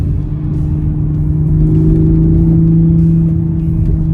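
A sporty Toyota GR Supra engine hum holds steady and loud, its tone edging upward as the car accelerates, smooth and slightly artificial-sounding from a synthesized engine noise.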